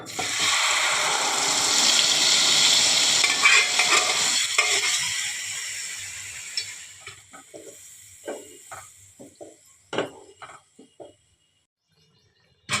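Mung and chickpea dal hits a hot pan with a loud, bright sizzle that gradually fades. Then come scattered close knocks and scrapes of a spoon stirring the lentils, and near-silence at the end.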